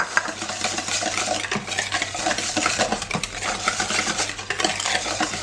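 A spoon stirs margarine and cocoa in a bowl for oursins sweets, scraping and clinking continuously at close range without speech.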